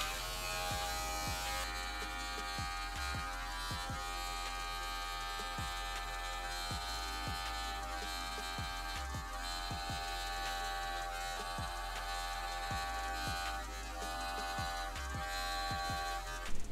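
Electric hair clippers buzz steadily in a self-done fade haircut at home, a close, continuous hum broken by repeated short dips as the blade passes through hair.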